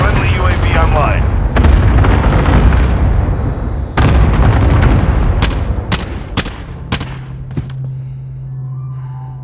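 Cluster strike explosions in Call of Duty: Modern Warfare deliver a loud rolling series of booms and thuds, followed by sharper scattered blasts that thin out. Voices talk over the opening.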